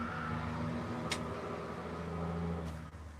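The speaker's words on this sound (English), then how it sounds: "Loud truck, sorry." A loud truck passing outside an open door gives a steady low engine rumble and drone that holds throughout before easing slightly near the end, heard from indoors without talk.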